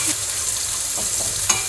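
Bitter gourd frying in ghee in a pan sizzles steadily, close and alone, with a few faint stirring scrapes.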